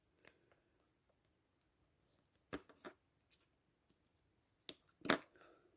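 Scissors snip paper for a handmade 3D Christmas card, a few short, crisp cuts in a quiet room with pauses between them.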